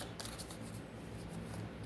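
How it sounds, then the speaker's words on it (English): Tarot cards are shuffled by hand in a soft, continuous papery riffle and rustle, close and fairly quiet, with bursts of brighter flicks and no talking. "Shuffle a little bit."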